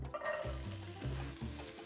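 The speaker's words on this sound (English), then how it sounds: "Now we're just going to stir this around" Onions, carrots and celery sautéing in canola oil in a saucepan give a soft, steady sizzle, with the vegetables being stirred in a few scraping strokes.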